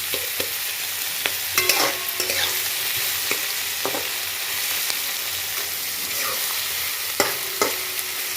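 Onions frying and being stirred in a pan, with broadband sizzle throughout and scattered clinks and scrapes from stirring, no voices.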